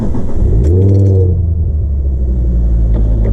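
A Ford Focus ST Mark II engine cranks and fires up close by, swinging from a rising rev into a deep, loud, steady idle rumble with a faint jingle of keys near the start.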